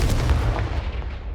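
A Confringo fire spell blast in Hogwarts Legacy, a short loud booming burst with a low rumble that quickly fades.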